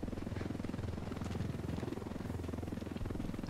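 Helicopter in the military shooter game Ghost Recon Wildlands, a loud, steady rotor thrum with a rapid pulsing beat that fills the whole stretch without a break.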